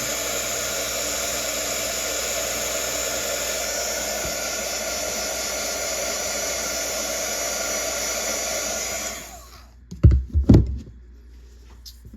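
A heat embossing tool blows a steady, loud rush of hot air over embossing powder for about nine seconds, then cuts off, followed by a few soft thumps as it is set down.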